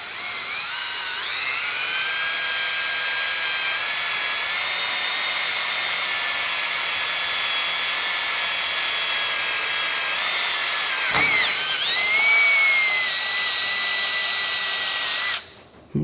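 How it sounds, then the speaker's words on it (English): A power drill whines steadily and loudly for a long stretch, pitch wavering slightly as it bites into thick steel plate, then cuts off abruptly. "This is some thick steel to drill through."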